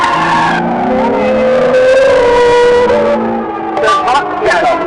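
A car accelerates hard up through second gear, its engine note climbing steadily and loud in the foreground, with a voice talking over it.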